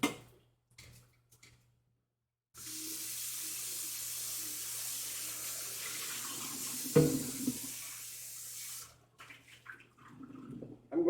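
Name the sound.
water running while cleaning out a pan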